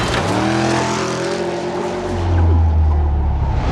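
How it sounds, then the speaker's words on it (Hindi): A car in an action movie scene roars at full throttle, a loud, close engine howl climbing and shifting in pitch as it accelerates, with a deep rumble swelling near the end and no talk. "गाड़ी को फुल रेस देता है"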